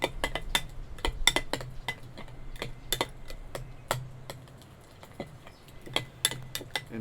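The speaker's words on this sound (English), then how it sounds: "So we're gonna start to mix that together." A utensil clinks repeatedly against a bowl while sauce ingredients are mixed together, producing sharp, irregular taps and scrapes close by in a quiet kitchen.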